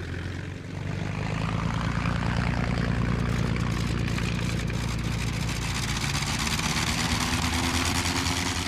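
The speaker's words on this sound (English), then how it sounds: "Sometimes, as in this rare film, they took off to provide escort for Avjatik and Argo reconnaissance aircraft." WWI Fokker aircraft engines taking off on old archival film, a loud continuous propeller drone and rumble that swells early and holds steady, with no voices.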